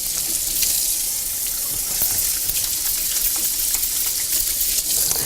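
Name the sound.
water running from a tap while washing hands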